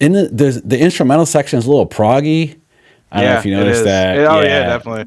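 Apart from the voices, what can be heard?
None of the usual background noises is heard.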